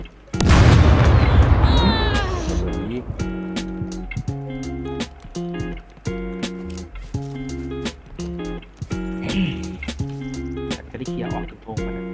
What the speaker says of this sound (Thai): ปืนระเบิดน่ะยิงขึ้นไปข้างบนน่ะ